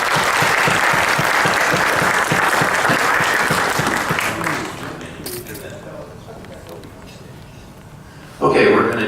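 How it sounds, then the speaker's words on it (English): Audience applause welcoming the Pattaya Players theatre troupe, full clapping with some rhythmic beats that fades after about four seconds, followed by quieter room noise and a sudden burst of sound near the end. "put your hands together, a round of applause to welcome Pattaya Players"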